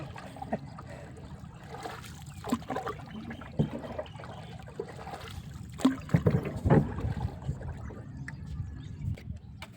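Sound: paddling a rowboat on the Mae Klong river

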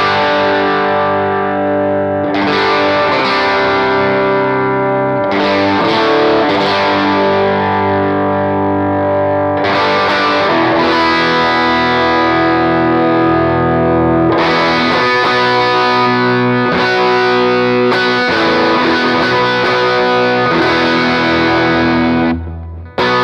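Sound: electric guitar chords through Chase Bliss Automatone Preamp MKII overdrive

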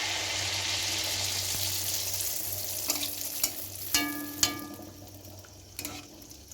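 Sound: malpua frying in oil in a wok

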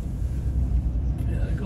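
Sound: wind

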